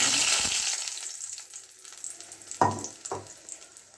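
Beaten egg mixed with onion, ginger-garlic paste and chilli paste hits hot oil with a loud hiss that fades over a few seconds, then a couple of sharp scraping taps against the pan.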